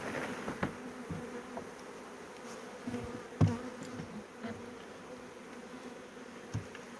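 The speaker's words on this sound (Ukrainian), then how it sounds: "з одної рамки ми ще стрісаємо бджолу в пакет" Steady buzzing of many honeybees being shaken from a frame into a package fills the space, with a few soft knocks and thuds over the drone; no voices.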